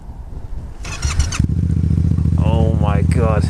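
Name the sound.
motorcycle engine starting up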